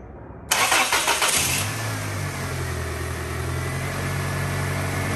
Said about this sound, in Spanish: Le vamos a dar arranque otra vez.